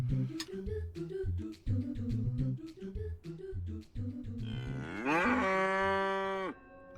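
A cartoonish cow moos in a shop-management video game, a long falling moo over upbeat game music with steady rhythmic beats, the moo loud and up front near the end.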